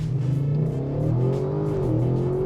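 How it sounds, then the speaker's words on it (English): A 2021 Audi RS7 Sportback carrying four people makes a full-throttle launch control start, its engine roaring loudly and steadily as the pitch climbs through the pull, close and continuous with no talk. "let's try that launch one more time, bro"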